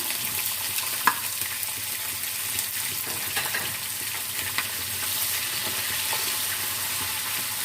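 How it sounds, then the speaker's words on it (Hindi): Chopped onions fry with whole spices in hot oil in a pan for chicken biryani, giving a steady, close sizzle with scattered stirring scrapes and one sharp clink near the start, and no talking. "प्याज को हम खड़े मसाले के साथ मिक्स कर लेते हैं और ऑयल में फ्राई कर लेते हैं"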